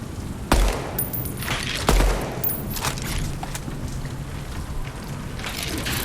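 Gunfire crackles at a firing range in the video game Deadrop, with two sharp loud shots followed by quicker, fainter bursts over a continuous hiss.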